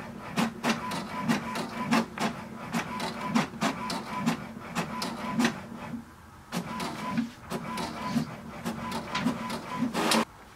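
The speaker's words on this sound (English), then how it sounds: "just wait for the printer to print a page." An HP Deskjet 2652 inkjet printer prints a page steadily, with rapid mechanical clicks and the repeated whir of the print head sweeping back and forth, pausing briefly midway.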